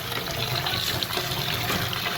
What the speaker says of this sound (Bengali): পোলাওয়ের চালটা সুন্দর করে ধুয়ে নেব